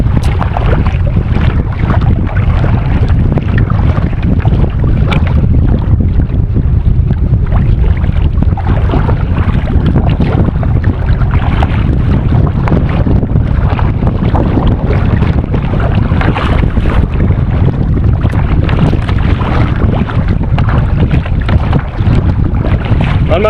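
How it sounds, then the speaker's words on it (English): A boat paddled into the wind on Island Lake in Lost Creek, Nebraska, with constant loud wind roar buffeting the microphone over the water and paddling noise, and no talk. "I'm just paddling. Of course, into the wind."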